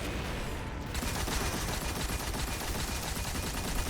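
The Thunderlord machine gun from the video game Destiny 2 fires in a continuous rapid stream of shots, loud and dense throughout, with no talking over it.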